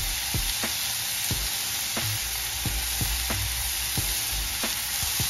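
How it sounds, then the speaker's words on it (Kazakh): Chopped chicken filling for Arabic katayef pancakes, seasoned with pepper and salt, sizzles steadily in a pan, with a few sharp utensil stirring clicks spaced through the continuous frying hiss. "Барлығын жақсылап қуырып пісіріп аламыз."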